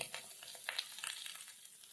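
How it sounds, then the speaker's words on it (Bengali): Eggplant frying in a pan as half a spoon of turmeric powder goes in, crackling spatter with scattered pops and stirring scrapes over a short stretch, close and moderately loud. "এক মিনিট মতো বেগুনটা ভাজা হয়ে গেলে এর মধ্যে দিয়ে দেব হাফ চামচ হলুদ গুঁড়ো"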